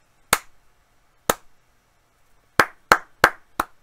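Close, dry hand claps captured on a low-cost lavalier microphone during testing: two slow single claps followed by four quicker ones, sharp attacks and brief decays against a very quiet background.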